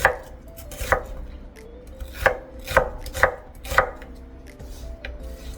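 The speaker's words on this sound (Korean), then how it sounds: "꼭지를 따주시고 채 듬성듬성 썰어서" A knife roughly chopping tomatoes on a cutting board, about seven distinct, sharp chops at uneven intervals over a low background hum, close and clear with no voices.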